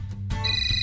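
An incoming call sets off a phone ringtone, a brief bright electronic melody with steady sustained tones, heard up close and alone.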